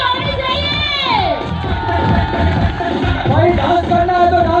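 A lively crowd at a Jharkhand stage event cheers, shouts and claps steadily throughout, with children's voices rising above the din and loud applause carrying on without a break.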